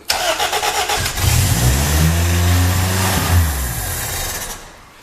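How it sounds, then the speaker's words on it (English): A 1980 Honda Accord engine with a newly installed Weber carburetor cranks with rapid chugging, then catches and revs loudly, holding a strong roar before easing off near the end. "She wants it. She's revving."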